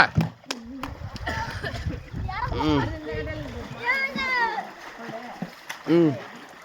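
A person jumps into water while bathing outdoors, with splashes breaking through loud excited voices of several people, including children, talking and shouting nearby.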